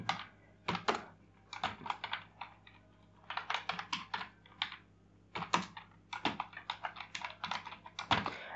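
Rapid bursts of clicky keystrokes on a computer keyboard as JavaScript code is entered, irregular clusters with short pauses between, close and steady with no voices.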